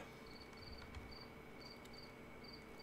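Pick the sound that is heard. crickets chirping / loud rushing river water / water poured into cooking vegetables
crickets chirping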